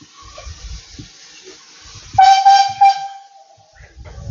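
Pannier tank steam locomotive 4555 gives a few short, loud whistle toots at a steam gala on the East Somerset Railway, followed by a fading hiss in an otherwise quiet setting.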